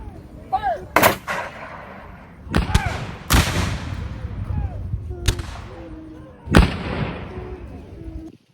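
Cannon artillery fire in a dramatized Battle of Fort Sumter: several loud, sharp booms spaced a second or two apart, each with a rumbling tail, mixed with faint shouting voices between the shots.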